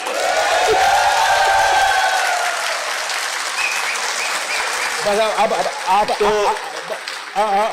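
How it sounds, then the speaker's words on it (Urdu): A crowd at the Islamabad Literature Festival 2024 breaks into loud, dense applause during a speech, which fades after a couple of seconds as a voice resumes talking over the dying claps. "یہ آپ نے تالیاں تو بجائی اور آپ کو اس کا حق حاصل ہے"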